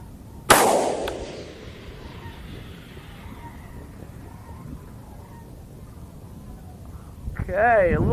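A single sharp rifle shot from a .224 Valkyrie budget DMR firing at long range outdoors, a loud crack with a decaying tail, followed several seconds later by a voice speaking.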